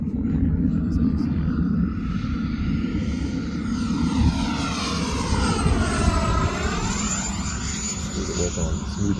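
An Avios MiG-17 radio-controlled jet powered by an E-flite 80mm ducted fan sweeps past in flight. Its rising and falling whoosh shifts in pitch as it passes, over a steady low rumble.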